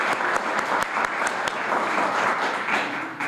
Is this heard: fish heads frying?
no